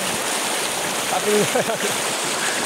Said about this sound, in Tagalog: ang lakas talaga ng tubig, no?